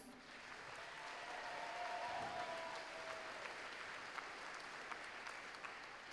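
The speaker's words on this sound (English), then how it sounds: "let's just go ahead and give them one more round of applause" Audience applause at a FIRST robotics competition opening ceremony in a large venue, a sustained, even wash of many people clapping heard at a distance, with no talking.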